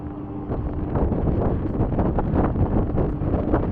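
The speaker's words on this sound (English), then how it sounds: "oh, it's a bit windy up here, 67th floor." Strong wind buffets the microphone on a 67th-floor balcony in a constant, blustery roar, gusting louder and softer without a break.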